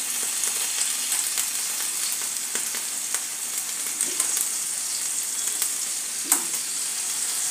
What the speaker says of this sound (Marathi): मी शॅलो फ्राय करत आहे, डीप फ्राय करत नाही।